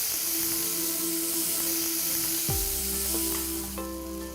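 Tomatoes hit hot oil in a pan for sev tamatar sabzi, a steady loud sizzle and hiss that jumps in intensity as they drop in, with stirring scrapes and a faint tone underneath.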